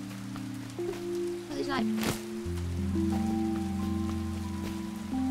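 Rain falls in the video game Paleo Pines as a soft steady patter under cheerful game music, while a person speaks briefly over it.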